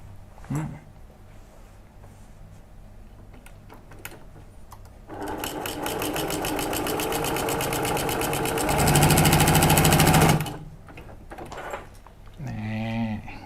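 A Brother PQ150 semi-industrial sewing machine runs steadily for free-motion stitching, a fast continuous mechanical whir that grows louder toward the end before stopping, with brief speech around it.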